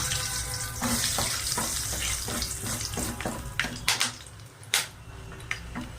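Cardamom and cinnamon tempering sizzling in hot oil for a Bengali crab curry: a loud, hissing, crackling fry runs throughout, broken by several sharp clinks and stirring knocks toward the end.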